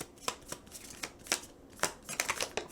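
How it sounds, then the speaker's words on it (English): Crisp riffling bursts of tarot cards being shuffled, several quick flurries in a row, close and fairly quiet with no talking. "All right, one more shuffle."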